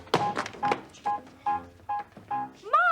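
A telephone is dialed for a call, with a run of short, evenly spaced button tones and clicks close by, ending on a longer warbling tone.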